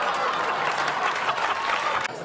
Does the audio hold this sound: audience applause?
yes